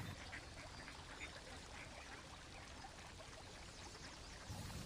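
Ducks quacking on a sunny pond with a willow tree nearby, their calls steady and moderately distant over a continuous outdoor wash of water and ambient noise, with no talking.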